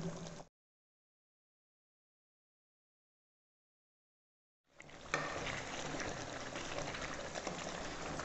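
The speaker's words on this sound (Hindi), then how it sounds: "और अब इस मसाले को भूनेंगे।" Masala for chicken bhindi fries in a pan, a steady close sizzle and bubbling that starts after a long silent gap, with a brief burst of the same at the very start.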